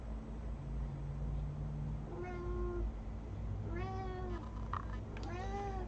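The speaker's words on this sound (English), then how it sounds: "say hi to my cat Sprinkles." A house cat meows repeatedly indoors, a few clear rising-and-falling cries spaced over several seconds against a steady low background hum.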